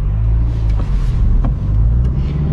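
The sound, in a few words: Peugeot 206 car driving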